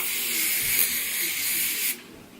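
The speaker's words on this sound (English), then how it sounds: "it's an aerosol too, so you could just hold it and it'll go." An H2O Beauty Oasis Quench the Day hydrating mist aerosol sprays in one steady, close hiss lasting about two seconds, then cuts off sharply, leaving only faint room tone.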